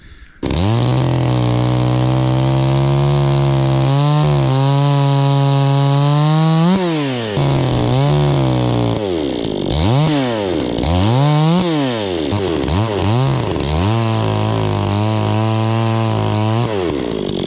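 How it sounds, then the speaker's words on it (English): A chainsaw runs loud and close, its engine revving up and bogging down repeatedly as it cuts into tree stumps, with steady idling stretches between cuts. "I just have to cut a couple of pesky stumps that are left here in the dog park, so got the trusty old chainsaw out."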